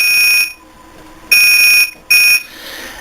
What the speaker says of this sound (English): Set your timer for about 33 minutes.